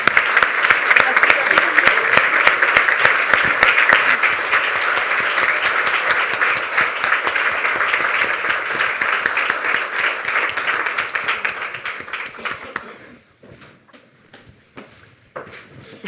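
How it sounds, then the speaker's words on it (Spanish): A packed room of people at a book presentation for «Elogio del amor» breaks into loud, sustained applause to welcome an author, the clapping holding strong before thinning out into a few scattered claps near the end. "recibamos con un fuerte aplauso a Rafael Narbona"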